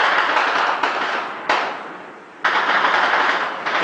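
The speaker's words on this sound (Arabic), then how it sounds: "إطلاق رصاص كثيف في مدينة مع ضمية الشام ردا على المظاهرة" Heavy gunfire in the town of Moadamiyat al-Sham, Syria, during a protest, with loud, sharp bursts of shots that echo and decay between repeated volleys.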